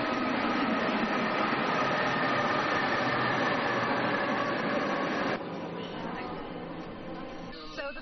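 A steady rumbling roar of a passenger train passing through a protected nature reserve in China, loud and continuous, dropping slightly in level near the end.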